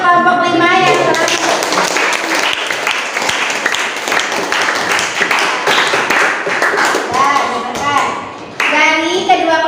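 Clapping from a classroom group rises in a dense, loud burst for about eight seconds, with voices heard at the start and end.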